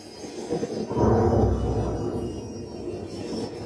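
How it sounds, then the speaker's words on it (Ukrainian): A loud, continuous roar of an aircraft passing overhead swells after the first second and stays heavy and rumbling to the end. "Це летить, летить летить літак, ми так розуміємо."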